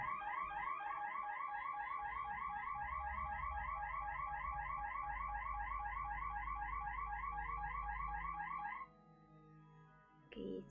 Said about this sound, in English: This is a neighbor's alarm.